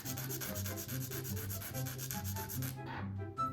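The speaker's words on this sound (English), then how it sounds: "I'm gonna use the 100 grit side just to file it down at the free edge." A fingernail is filed at the free edge with the 100 grit side of a Macart nail file, giving quick rhythmic back-and-forth rasping strokes, close and fairly quiet, before stopping briefly near the end.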